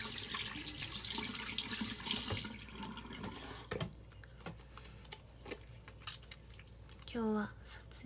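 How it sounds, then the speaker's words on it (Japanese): Running water from a tap as hands are washed at a sink, a broad steady hiss for about two seconds that then stops, followed by quieter clinks and handling noises and a brief voice near the end. "手洗います"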